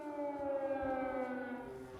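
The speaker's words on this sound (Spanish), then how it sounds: "en Kiev las sirenas antiaéreas advierten a la población que permanezca a resguardo" Air raid sirens sound over Kyiv in wartime as a steady, sustained wail with a single unbroken tone. They are distant and moderately loud, with no speech.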